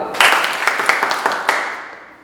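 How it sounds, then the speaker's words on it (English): Audience applause at a talent show event in Kolkata, a dense burst of clapping that starts abruptly, peaks early with a few sharper claps, then gradually fades over about two seconds. "A round of applause, everyone."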